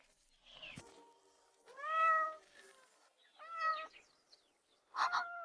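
Lynx kittens meow in three separate, fairly faint, tonal cries spread out against a quiet background, with a short knock near the start.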